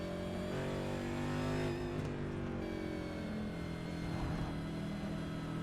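Simulated race car engine in iRacing at Circuit of the Americas, a steady, loud mid-range drone held under light, smooth throttle through the esses, pitch easing gently with no speech.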